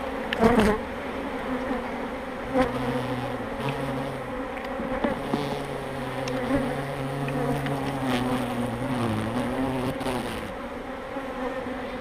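A dense, steady buzzing of many honeybees around an open hive during a spring inspection, close by, with individual bees droning louder as they pass near.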